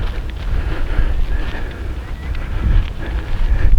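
Coastal wind on Foulney Island, a nature reserve near Barrow-in-Furness, buffets the microphone as a steady low rumble with gusts rising and falling throughout, no one speaking.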